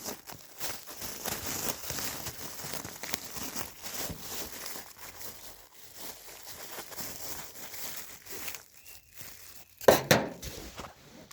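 Plastic film on a beehive is trimmed and pulled away, giving close crinkling, rustling and tearing sounds in a steady stream, then a short sharper burst near the end, with no speech.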